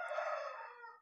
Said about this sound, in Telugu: ఇందులో కనబడుతున్న కోడి పుంజులు వచ్చేసరికి తూర్పు జాతి కోడి పుంజులు